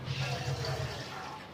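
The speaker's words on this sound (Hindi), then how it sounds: "आधा किलो पानी बिस्मिल्लाहिर्रहमानिर्रहीम मैं इसके अंदर शामिल करने लगा हूँ।" About half a kilo of water pouring into a cooking pot for mutton salan in a kitchen. Soft, close, burbling splashes run for a moment and then taper off.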